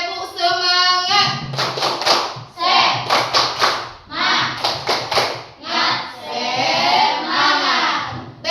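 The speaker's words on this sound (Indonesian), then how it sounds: "Tepuk semangat." Classroom of children doing the 'tepuk semangat' clap routine: bursts of rhythmic group clapping in quick clusters, mixed with children's chanting voices, close and loud.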